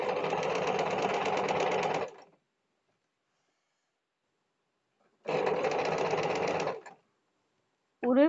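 A sewing machine stitches round piping onto a boat neck blouse in two steady runs of rapid mechanical whirring, about two seconds and one and a half seconds long, separated by a pause, recorded close up with no talking.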